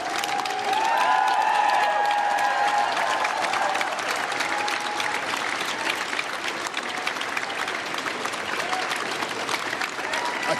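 Applause rings out indoors at 10 Downing Street as the new Prime Minister, Andy Burnham, arrives with his wife; dense, steady clapping fills the whole stretch, with cheering voices near the start.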